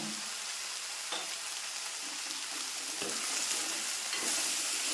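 Okra frying in a pan with a teaspoon of salt, stirred with a spoon: a steady, fairly soft sizzle broken by a few scraping strokes spread across the stretch, with no talking.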